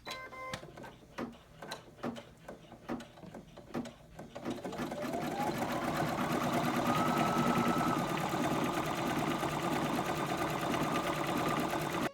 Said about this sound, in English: Final step on embroidery machine.